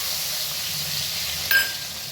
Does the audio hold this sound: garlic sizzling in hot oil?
yes